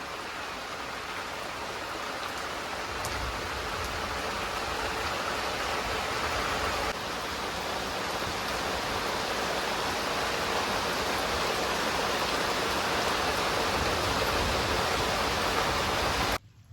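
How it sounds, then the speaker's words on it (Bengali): Heavy rain pours down steadily outdoors as a dense, constant broadband roar, loud and unbroken for the whole stretch, with no voices over it. "প্রচণ্ড বৃষ্টি হচ্ছে"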